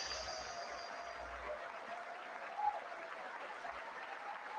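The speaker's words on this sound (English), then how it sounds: "Yeah, you fucking clap, Nancy." Applause in the chamber during a State of the Union address, a faint, distant, steady wash of clapping with a low broadcast hum and no clear voices.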